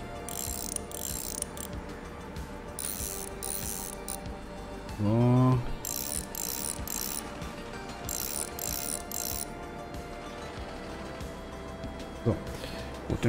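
Ratchet clicking in a bus mechanic simulator game as a wheel's thru-axle is unscrewed, with a steady rhythmic mechanical ticking running through most of the stretch, a brief speaking voice in the middle and a short clink near the end.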